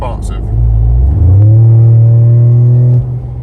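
Ford Raptor truck engine in sport mode revving up: a loud, close low rumble climbs in pitch, holds steady and then drops off abruptly.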